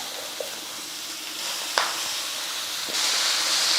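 Manathakkali greens with onion and turmeric sautéing in a small kadai, a steady soft sizzle and hiss with a few light clicks of stirring, growing slightly louder toward the end.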